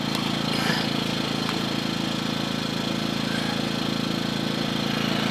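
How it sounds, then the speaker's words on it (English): A small EcoFlow dual-fuel portable generator engine runs steadily at a constant, droning pitch, close by and unbroken for the whole stretch. "the revs are kicked in a little bit higher now"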